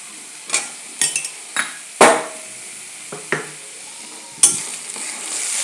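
Masala paste made with turmeric and salt, being stirred and fried in a pan for a rohu fish curry with pointed gourd and potato. Close, sharp scraping strokes of a spatula come at irregular intervals over a soft, steady sizzle.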